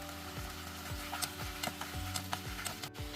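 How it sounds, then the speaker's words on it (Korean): Green onion and onion stir-fried in a pan with soy sauce, oyster sauce and garlic, giving a steady low sizzle with repeated ticking scrapes of a utensil against the pan at a regular rhythm, close and alone. "파를 넣어 다시 볶아줍니다"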